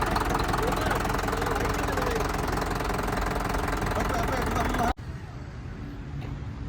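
A tractor engine idles close by with a steady, knocking diesel chug, loud and constant, then cuts sharply to a quieter rumble near the end.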